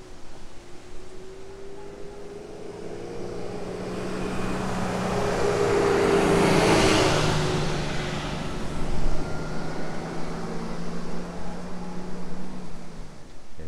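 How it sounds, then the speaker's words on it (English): A vehicle approaches on a road, swells to a broad rushing roar as it passes close by, then fades into the distance, with steady outdoor background noise and no talking. "Vehicle coming."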